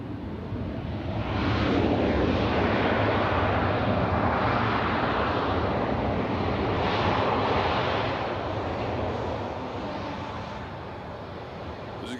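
An airplane taxis at Nashville International Airport, its engines making a loud, steady broadband roar that swells and then eases under gusty wind noise.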